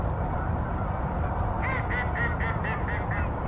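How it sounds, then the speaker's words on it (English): Mallard ducks and geese honk and quack on open winter water downstream of a water treatment plant, a rhythmic series of calls rising over a steady rushing background. "Mostly mallards, a lot of geese."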